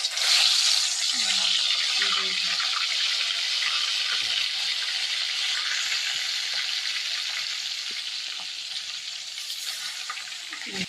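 Fish pieces coated with turmeric, chili and salt fry in oil with a continuous close sizzling hiss. A few faint clinks and soft bumps sit under the frying.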